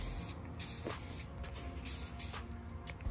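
Aerosol spray paint hissing onto Audi B8 A4 Avant interior trim parts outdoors, a steady broadband hiss with brief louder bursts, mixed with wind noise throughout.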